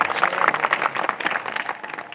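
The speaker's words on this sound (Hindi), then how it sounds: "अपन आपके लिए ताली बजा दिया जाए" Audience applause at a Ram Katha devotional gathering, with steady clapping from a seated crowd that fills the short span at a fairly even level, no voices standing out.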